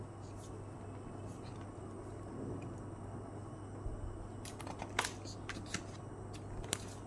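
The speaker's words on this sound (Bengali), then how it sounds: "এটা খুললাম কভার।" A heavy hardbound Quran's cover is opened and its pages are handled, giving a few soft, close rustles and sharp clicks over a steady low room hum.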